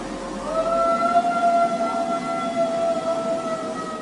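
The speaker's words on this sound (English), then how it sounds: "so I'm wondering if this was just a really old dog trying to howl." Long, drawn-out howling from a dog at night, one wavering sustained cry that rises and holds over constant background noise, fairly distant and alone.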